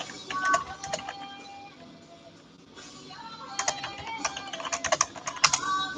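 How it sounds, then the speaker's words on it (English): Fingers typing on a computer keyboard nearby, with irregular bursts of quick clicky keystrokes, a lull in the middle, then a denser flurry, under faint background sound. "Now I'm just typing on Facebook"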